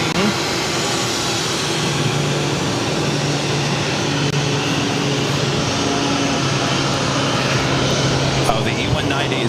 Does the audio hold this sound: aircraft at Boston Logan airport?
yes